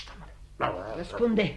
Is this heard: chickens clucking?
no